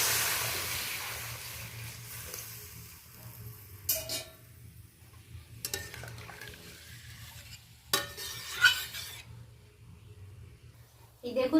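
Hot water poured into a frying spice masala for a rohu fish curry, with bursts of sizzling and steam between scraping, stirring strokes in the pan, fairly faint overall.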